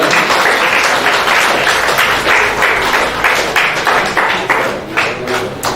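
Audience applause at a summer camp closing ceremony of a film institute, dense sustained clapping from a crowd, loud and close, rippling steadily before thinning slightly at the end.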